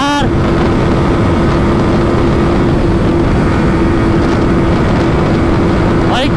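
A KTM motorcycle in a 150cc-class drag race, its engine holding a loud, steady high-revving drone through fifth gear, close and harsh with wind roar, ending in a brief rising note.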